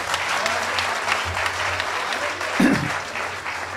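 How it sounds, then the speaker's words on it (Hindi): An audience at a Hindi Bhavan poetry recital applauds steadily, a dense clapping with a brief voice rising near the end. "तालियां बजाइए"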